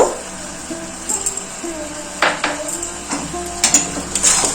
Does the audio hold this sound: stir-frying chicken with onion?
yes